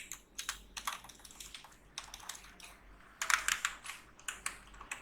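Computer keyboard typing in bursts of quick clicks, close and fairly quiet, with short pauses between runs of keystrokes and no talking.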